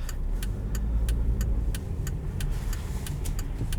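2016 Volvo S60 Cross Country five-cylinder engine heard from inside while driving, a low rumbling drone with a regular ticking click, like a turn signal, repeating over it.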